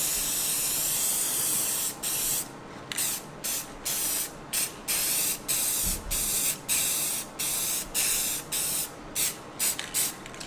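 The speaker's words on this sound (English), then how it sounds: "then we'll hit it with a little clear coat" Clear coat sprayed from an aerosol can onto a burnt wood American flag in a woodshop, heard as a string of short, close hissing bursts, about a dozen in quick succession with brief gaps between them.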